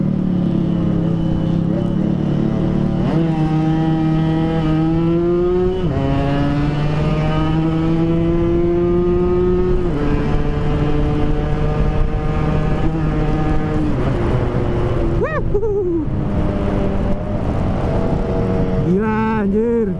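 A Yamaha RX King two-stroke motorcycle fitted with a new aftermarket exhaust revs up and down at close range, its engine pitch climbing and dropping in repeated throttle blips, while people talk nearby.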